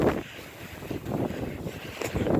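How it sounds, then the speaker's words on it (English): Strong wind gusts in a snowy blizzard buffet the microphone with loud, close, rushing roars that swell and fade over a few seconds. "Whoa, the wind. Whoa, whoa. That gust was bad."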